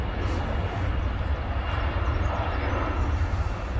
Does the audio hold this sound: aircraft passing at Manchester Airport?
yes